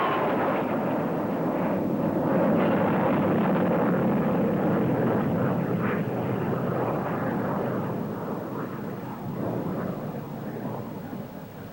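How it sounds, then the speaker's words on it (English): An English Electric Lightning jet fighter makes a sustained, loud, roaring afterburner burst at the Farnborough air show. The roar rises to a peak and then slowly fades over about twelve seconds. "It can do twice the speed of sound and shows off its reheat with a burst of power."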